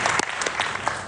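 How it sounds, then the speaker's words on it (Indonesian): Church congregation clapping at an evening meeting, a short burst of mixed hand claps from a gathered crowd, moderately loud and fairly close. "Beri tepuk tangan untuk kemuliaan Tuhan."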